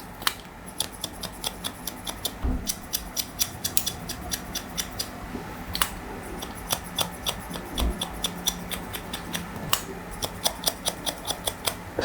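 Scissors snip hair in a rapid series of crisp, close clicks as they point cut into the lengths just above the round of the head during a long-to-short haircut, with short pauses between bursts and no talking.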